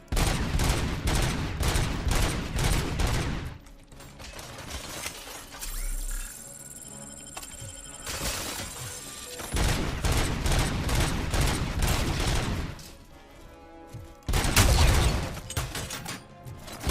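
Heavy machine gun fire in the video game Robocop Rogue City, loud sustained bursts of rapid automatic shots broken by brief pauses with mechanical clanks and shattering, then resuming in dense volleys.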